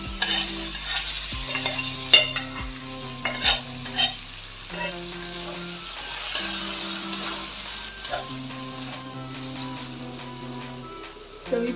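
Chili-garlic thecha and mashed amaranth greens frying and being stirred in a pan, a soft sizzle with scraping stirs and occasional thumps over low background music.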